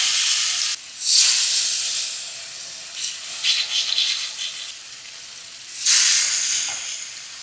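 Hot oil sizzles loudly as pieces of potato are dropped in, with sharp hissing surges at the start and near the end and bubbling crackle between.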